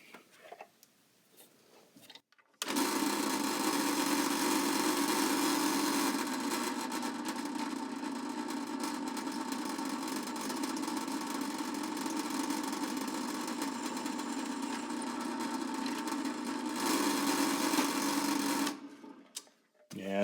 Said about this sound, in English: drill it through real nice.